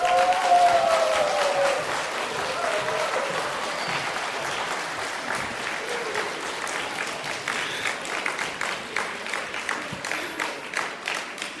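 A church congregation applauds to welcome the pastor at an ordination thanksgiving service, a full, sustained wave of clapping that thins toward the end into more distinct claps, with a brief voice at the very start.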